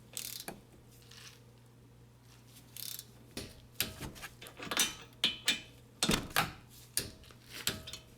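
Torque wrench tightening a brake caliper bolt on a Toyota Avalon during front brake work, heard as a series of close, sharp ratcheting clicks in irregular bursts that grow louder and quicker toward the end, with no talking.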